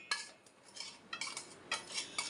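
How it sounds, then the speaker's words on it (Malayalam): Powdered sugar is scooped from a mixer jar into another bowl, with a series of sharp metallic scrapes and taps of a spoon against the containers at irregular intervals, close and fairly crisp. "ഇത് നമുക്കൊരു വേറൊരു പാത്രത്തിലേക്ക് മാറ്റി വയ്ക്കാം."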